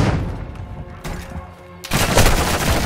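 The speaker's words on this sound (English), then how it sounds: "I'm taking fire" Dense gunfire from Call of Duty: Modern Warfare II, loud and continuous, with sustained bursts that briefly thin out before a heavier volley near the end.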